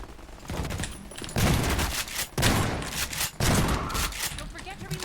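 Gunfire in Half-Life 2 MMod aimed at a Combine ball, coming as dense, loud, sustained bursts in three long stretches with brief breaks between them.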